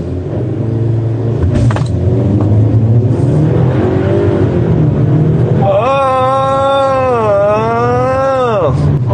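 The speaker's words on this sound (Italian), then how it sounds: "dopodiché molliamo il freno e la macchina dovrebbe schizzare" A Cupra Formentor 250 hp launches under launch control, its engine note rising in loud sweeping harmonics that climb, dip at a gear change and climb again. Before the launch there is a steady idle drone with some talk over it.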